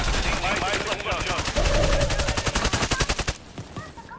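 Loud, close automatic gunfire in Call of Duty Warzone rattles in rapid bursts, the shots speeding into an even stutter before cutting off to a quieter tail.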